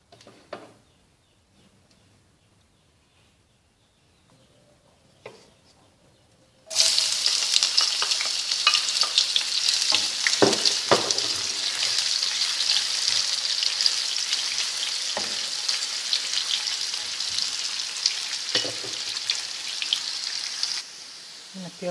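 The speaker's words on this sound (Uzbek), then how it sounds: "Piyozimizni tilla rangga kirguncha qovurib oldik." Chopped onion hits hot oil in a pan and sizzles loudly and steadily after a few quiet seconds, frying until golden, with a few soft stirring knocks and no talking.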